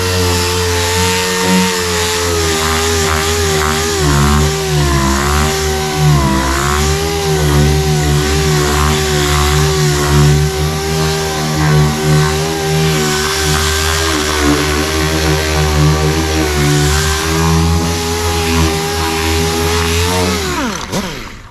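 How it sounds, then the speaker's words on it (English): A power sander scuffs a car body down to a dull, scratched finish before painting, a loud, steady motor whine with a buzzing harmonic drone that runs continuously and cuts off abruptly at the end. "I'm rolling with it like that right there as I'm sanding"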